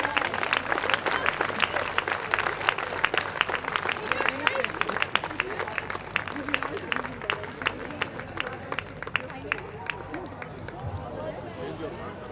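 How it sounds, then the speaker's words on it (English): Parents at a school valedictory event applauding a choir, brisk clapping from a crowd that thins out toward the end, with some chatter mixed in. "Parents, we can give them a huge round of applause."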